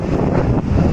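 Strong wind on top of a high city flyover buffets the microphone with a loud, continuous roaring rush that dominates the short moment, with no voices.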